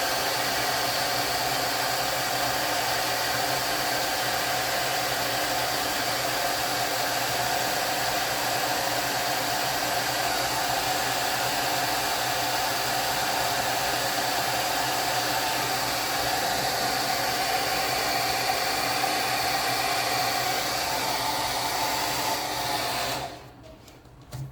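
A hair dryer drying paint blows with a steady, loud broadband roar that runs continuously before cutting off abruptly near the end.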